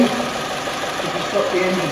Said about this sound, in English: if we just start the vehicle up please.